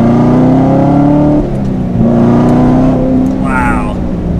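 A 2019 Chevrolet Corvette ZR1 with a manual gearbox pulls hard in second gear, its engine note rising steadily and loud up close, with a brief dip mid-pull before climbing again; a voice speaks over it near the end.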